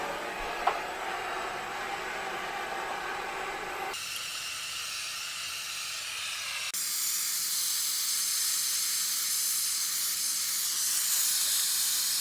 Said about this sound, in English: Have a wee gas torch here.